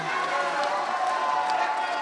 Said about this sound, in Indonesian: kami meminta kepada hadirin untuk memberikan tepuk tangan terlebih dahulu kepada pasangan nomor 4 dan 2